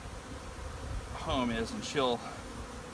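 Honey bees drone steadily around a solid-bottomed hive box, their buzz forming a constant close hum; someone talks briefly over it.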